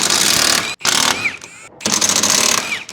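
A big impact gun with an 18mm socket on an extension bar hammers at a subframe bolt on an Audi A3, loud rattling bursts with two short breaks, close to the car.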